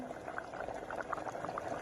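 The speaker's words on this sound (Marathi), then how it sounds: "आपली भाजी पण छानपैकी व्हायलाच लागलेली आहे त्या राजम्याची" Rajma (kidney bean) curry boils in a pot, a dense, steady bubbling and popping that holds at an even level throughout with no voices.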